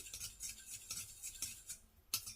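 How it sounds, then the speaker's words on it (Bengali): A spoon stirs vinegar into powdered milk for homemade yogurt, making quiet, irregular scraping and clinking against the bowl, with a sharper clink near the end. "আর একটু ঘুটায় নেই, ভালো করে ঘুটায় নেই"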